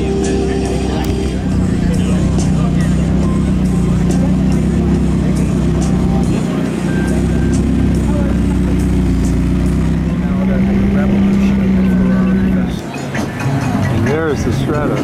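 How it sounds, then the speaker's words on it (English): An Italian ATS sports car rolls slowly past at a classic car show, its engine a steady low rumble under a crowd and steady talk, swelling briefly as it goes by. "Here's this ATS slowly passing through here."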